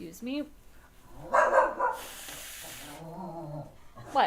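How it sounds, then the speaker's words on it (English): A dog barks in short, sharp bursts close by, with people talking around and between the barks and a brief hiss in the middle. "She barks at me anytime I cough or sneeze."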